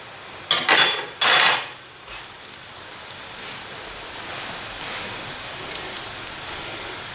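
A spatula scrapes and clatters twice against a pan as a msemen crêpe is turned, two brief metallic clanks followed by a quiet sizzle that continues underneath.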